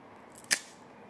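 A hard, unripe green banana giving one short, sharp crack as it is opened, faint and brief against a quiet background.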